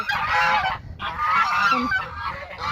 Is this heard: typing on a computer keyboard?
no